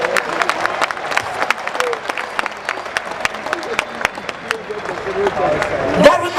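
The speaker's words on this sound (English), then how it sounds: "clap your hands" Audience at a comedy and music concert clapping in a dense, lively burst with crowd noise and a few louder individual claps throughout.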